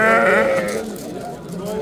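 A pregnant sheep at the Thursday livestock market in Sariosiyo district, Surxondaryo region, Uzbekistan, gives one loud, close, wavering bleat that fades into market murmur and a voice.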